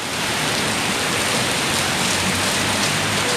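Steady, heavy rain pouring down in Phaya Thai, Bangkok, a dense continuous hiss close by with no pauses.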